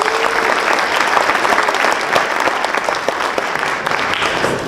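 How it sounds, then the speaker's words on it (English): Sustained audience applause fills a high school choir concert at a 2024 graduation farewell, steady dense clapping from a large crowd throughout, loud and continuous with no talking. "can we give them another round of applause for your graduating class of 2024?"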